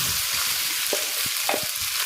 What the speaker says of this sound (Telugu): చక్కగా వేగిన తర్వాత ఇలా పోపు పెట్టేసుకోవాలి